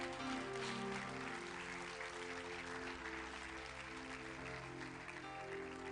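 Church congregation applauding together during a sermon, a steady sustained wash of clapping filling the room, with music or organ tones sustained underneath throughout.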